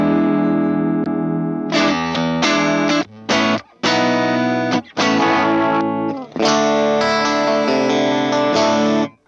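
An electric guitar driven through a Tsakalis Mothership tube overdrive into a Vox 2x12 cabinet plays loud, saturated chords and riffs in choppy bursts with short gaps between them.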